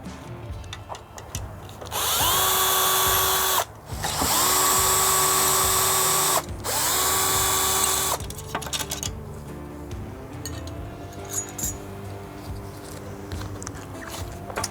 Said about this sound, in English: Use the provided Torx key and remove the bolts. Again, I'm going to use a drill.